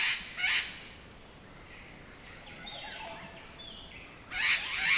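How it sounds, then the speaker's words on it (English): Green parrots at Lago Yojoa, Honduras, let out harsh squawking bursts, one near the start and another near the end, with fainter distant calls and birdsong in between against quiet open air. "Just a whole lot of squawking."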